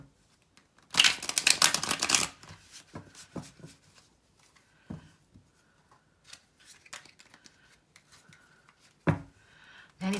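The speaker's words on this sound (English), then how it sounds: "And these cards want a little shuffled" Tarot cards being shuffled by hand during a reading, a loud dense riffle burst for about a second, then softer scattered card slides and taps, with another sharp riffle near the end.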